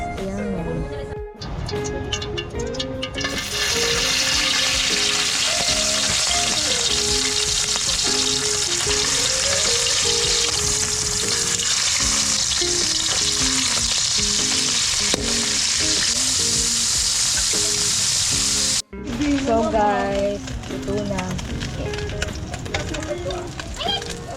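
Bakula fish frying in a pan at a countryside riverside cook-up: loud, steady, dense sizzling and crackling close by, continuous throughout with a brief break near the end, while people talk over it.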